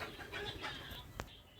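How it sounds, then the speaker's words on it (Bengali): Teddy pigeons coo faintly at a rural pigeon and poultry farm, soft bird calls low in the mix over a steady background hiss, with one brief sharp sound near the end. "টেডি কবুতর আছে দেখুন"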